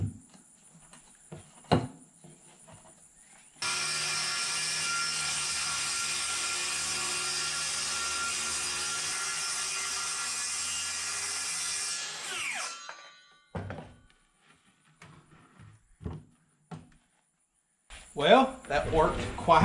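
A power saw rips through a wall sheathing panel with a loud, sustained whine lasting about eight seconds, then spins down. Scattered knocks, clatter and handling noises come before and after the cut.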